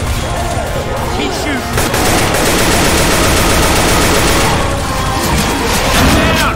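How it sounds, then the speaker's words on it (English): Dense continuous gunfire pours into the Tank in Left 4 Dead 2, loud and overlapping rapid shots with crashes and booms layered throughout. "Shoot the damn tank!"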